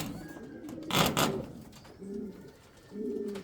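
Indian fantail pigeons in a pigeon house give low, soft coos, a few murmuring phrases spaced out with a brief wing flutter or rustle near the start, heard close up.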